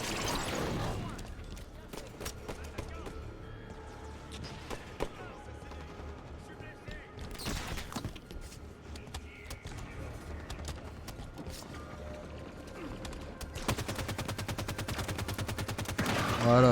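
Sniper rifle gunfire in the Halo 5 Guardians video game, several sharp shots spaced out amid a busy battle mix of other weapons and effects, with someone talking over the action throughout.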